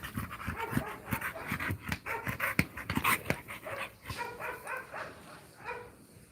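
A shepherd dog pants rapidly and rhythmically nearby, quick breathy huffs in a steady run, with a faint whimper now and then.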